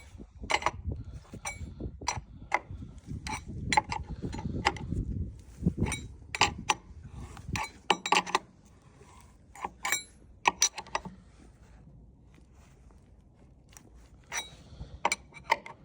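A washer and nut are tightened down onto untreated wood, giving sharp metallic clicks and ratcheting bursts, dense at first and then sparser with quiet gaps.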